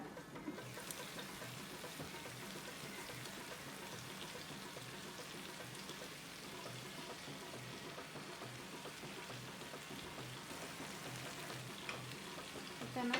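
Onion, coriander and curry leaves fry quietly in a pan for a Coorg-style chicken fry. A faint, continuous crackle and hiss holds steady throughout with no voices.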